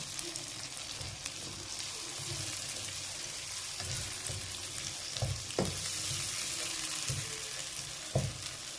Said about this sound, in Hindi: हम चने अच्छी तरह भुनेंगे मसाले में।